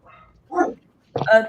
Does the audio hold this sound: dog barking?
yes